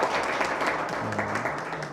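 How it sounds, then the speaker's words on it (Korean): Steady applause from a seated audience at a Korean legislative debate forum as a law professor is introduced. The clapping is moderately loud and continuous throughout, with a faint voice briefly underneath. "큰 박수 한번 주십시오"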